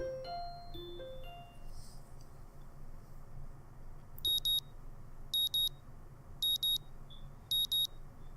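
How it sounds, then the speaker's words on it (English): A morning alarm clock in the Katawa Shoujo visual novel sounds four short pairs of high electronic beeps at even intervals over a quiet background with faint soft chimes at the start. "And my morning alarm goes off again."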